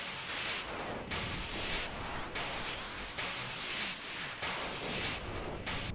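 A breakbeat runs through an Ableton effects chain with LFO and echo, heard as dense, hissing, heavily filtered bursts that cut in and out in a rhythmic pulse at moderate volume.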